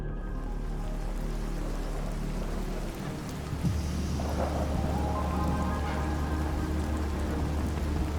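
Stormy rain pours steadily on the way up to Adam's Peak in Sri Lanka, with a dull roar and a low rumble underneath, continuous and fairly loud, with no voices.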